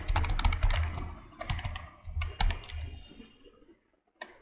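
Keys on a computer keyboard clatter in quick bursts of clicks, close and crisp, with short pauses between runs and a brief silence before a final few taps.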